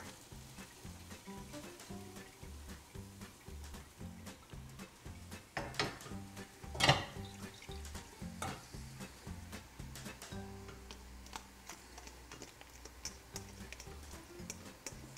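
Corn bread being sautéed in olive oil sizzles quietly in a pan, with steady light frying crackle and scattered clicks of a utensil, alone without talk.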